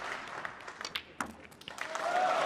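Applause from a snooker crowd at the 2020 International Championship, a crisp burst of clapping lasting a couple of seconds that swells slightly toward the end, with no talk over it.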